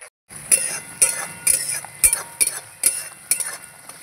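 Spices being stirred in a cooking pan, a spoon scraping and clinking against the pan in regular strokes about twice a second, close and distinct over a quiet background.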